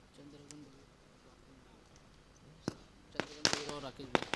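Firecrackers and fireworks go off during a local cricket tournament final, with a few sharp cracks early on and then a louder cluster of bangs near the end, heard under a commentator's voice.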